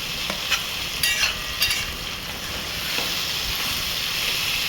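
Fenugreek leaves fry and get stirred in a pan for a tamarind curry, giving a steady close sizzle with scraping spatula strokes and a few sharper clacks against the pan early on.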